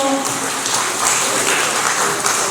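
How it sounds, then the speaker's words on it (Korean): Audience applause at a civic association general assembly and award ceremony in Ansan, a steady broadband wash of clapping filling the short stretch at moderate loudness, with faint voices mixed in. "박수 주십시오"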